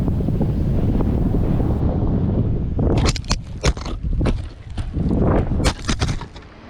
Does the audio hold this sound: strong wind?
yes